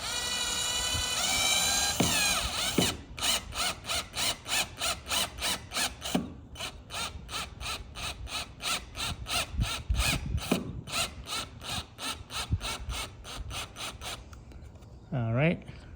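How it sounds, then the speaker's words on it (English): Power drill driving screws into a solid piece of wood while mounting a myQ smart garage door video keypad, heard as a long run of rapid, evenly pulsing bursts close to the mic with brief pauses between them. "I decided to get the drill because it is pretty hard to get to the solid piece of wood."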